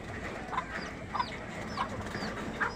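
Gamecocks kept for fighting cluck in short, repeated calls at a moderate distance, spaced roughly every half second over a steady outdoor background hiss.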